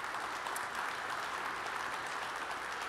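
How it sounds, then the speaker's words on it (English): Audience applause at a mayors' breakfast event, steady and sustained clapping filling the room for about three seconds with no voices over it. "So let's give all the food and everyone another round of applause."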